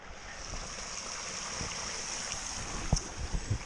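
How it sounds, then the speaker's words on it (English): A brook running high with water in August, a steady broadband wash of flowing water heard outdoors, with a few brief knocks and rustles near the end. "There shouldn't really be that much water running down the brook in August, but there is"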